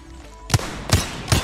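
Gunshots in a video game: three sharp, punchy shots with low thumps, spaced evenly about 0.4 seconds apart, loud and close with no talking over them.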